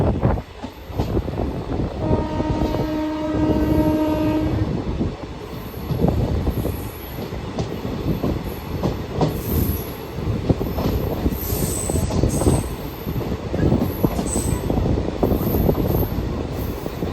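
A passenger train on the Jamjodhpur to Veraval route in India rolls along with constant wheel and carriage rumble and some squealing. A sustained horn blast sounds early on, loud and close.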